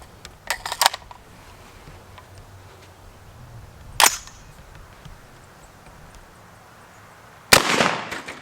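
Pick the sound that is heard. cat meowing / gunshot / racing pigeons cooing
gunshot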